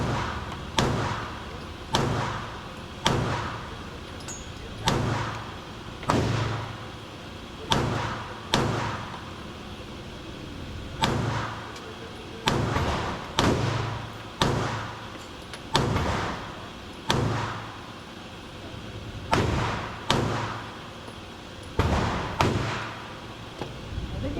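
Pistol shots from a Springfield Echelon firing Federal 147 grain ammunition at 15 yards on a range: about twenty sharp, loud reports in irregular pairs and strings, each with a short decaying echo, no talk.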